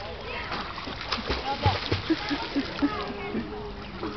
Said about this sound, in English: Come on, Evie, show us some swimming.